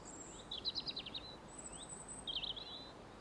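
A European robin sings outdoors in a few short phrases of high, thin trills and whistles, fairly faint against a quiet background.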